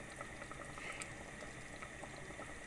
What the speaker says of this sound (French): Voilà, j'ai rajouté de l'eau bouillante, comme ceci.